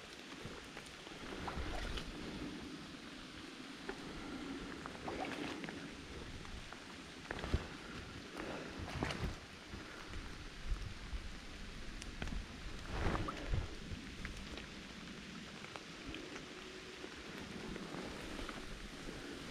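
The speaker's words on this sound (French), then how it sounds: "si, là, il pleut." Steady outdoor rain patters and hisses faintly and evenly throughout, with occasional louder drips or knocks breaking through the continuous wash.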